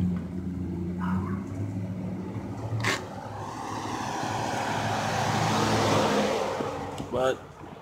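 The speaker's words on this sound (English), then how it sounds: "all these vehicle passing, I can hardly hear myself" Road traffic with vehicles passing along a street, a steady broad wash of engine and tyre noise swelling toward the end, with someone talking over it and a brief dog-like bark.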